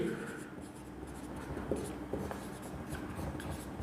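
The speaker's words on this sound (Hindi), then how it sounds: "चलिए अब यहाँ लिखते हैं" Writing on a board during a maths class, a steady close scratching of strokes with small accents, continuing throughout against a noisy room background.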